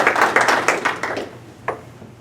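A short, thin patter of applause from a small audience at a zoning board of appeals meeting, a handful of claps close together that fade out, followed by one last isolated clap.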